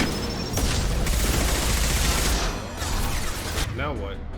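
Heavy gunfire in the Mass Effect 2 video game, with dense bursts of rapid shots and booms crowding together loudly, breaking off briefly between volleys.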